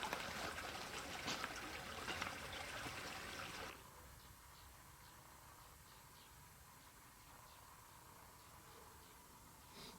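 Water flowing along a creek in the Superstition Wilderness desert of Arizona, a steady, broad rushing trickle that is louder for the first few seconds and then drops to a softer, continuous babble with faint wind.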